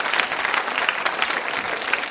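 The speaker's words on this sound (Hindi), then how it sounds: "तालियां जोरों से बजाइए इनके लिए आप।" Steady audience applause fills a school quiz show at Mahaveer Digambar Jain School, a dense, even wash of many hands clapping without pause and with no voices on top.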